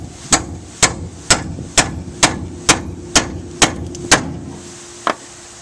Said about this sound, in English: start beating on it with one of these super big sledgehammer